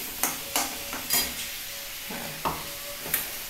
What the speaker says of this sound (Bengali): এবার আমি মাছটা এর মধ্যে দিয়ে দিই।